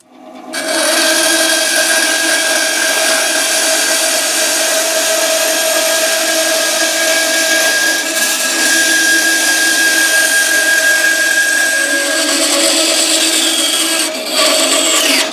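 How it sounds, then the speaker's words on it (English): Bandsaw cutting maple wood for a Spider-Man-themed ukulele body, a loud, steady whine with a constant tone that runs for about fourteen seconds, dropping away briefly near the end with no speech. "then we're going to use the bandsaw to cut away a lot of the excess"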